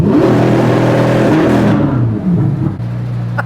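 A car engine revs hard at full throttle for a launch-mode start, the loud, close roar holding with strong harmonics for about two seconds before easing off and dipping, then surging again.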